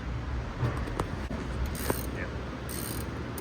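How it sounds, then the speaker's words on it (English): Wrenches, 15 mm and 16 mm, working a bolt and nut on a Challenger widebody LED wheel badge bracket: faint, scattered metallic clicks and scrapes over low background hum. "you're going to use a 15 millimeter wrench for the front of this bolt and a 16 millimeter wrench for the nut"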